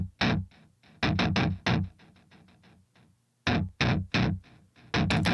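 Punchy sample-replaced kick drum hits in a metal groove, deep low thump layered with a lower octave, repeating in a steady pattern with bright snare-like hits between.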